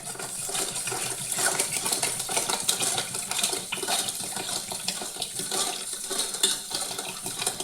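Water pours steadily into a container of lemon and sugar with a bright splashing trickle, accompanied by occasional light clinks of utensils or glass.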